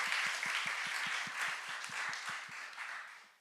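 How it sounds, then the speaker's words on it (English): Audience applause at a youth policy talk on energy and sustainability. Fairly faint, even clapping comes with a steady rhythmic beat underneath and tapers off at the end. "So please, a last applause,"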